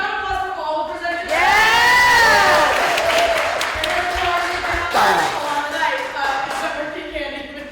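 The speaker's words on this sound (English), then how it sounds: "just round of applause for all the presenters" A crowd bursts into loud cheering, whoops and shouting for the presenters, with clapping underneath, peaking early then tapering as voices linger.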